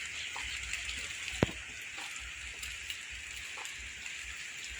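Rain falls in the dark early morning over a rural field, a soft steady hiss with scattered drips and one sharp nearby drop.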